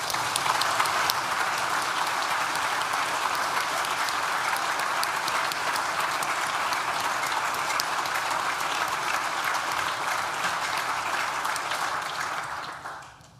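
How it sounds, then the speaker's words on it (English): An audience at a university graduation ceremony claps long and steadily in a large hall, a dense, even roar of many hands that fades out at the end. "Please join me in thanking them with a well-deserved round of applause"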